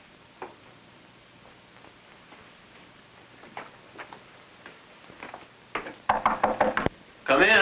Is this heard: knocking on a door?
yes